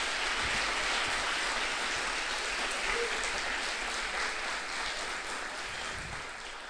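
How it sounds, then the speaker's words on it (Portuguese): A church congregation claps steadily throughout, a dense even wash of applause that stays loud and slowly tapers toward the end. "Então aplauda Jesus porque Ele merece."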